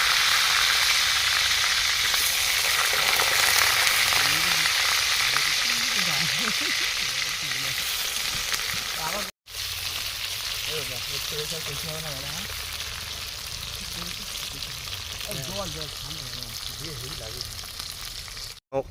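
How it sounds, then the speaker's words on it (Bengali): Potatoes frying in oil in a wok give a steady, loud broadband sizzle that runs continuously, with a brief dropout partway through and faint voices or background sounds mixed underneath. "তেল দিয়ে দিচ্ছি আলু আলুগুলো ভেজে নেবো"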